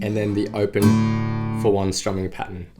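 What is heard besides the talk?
No everyday noise stands out behind the speech.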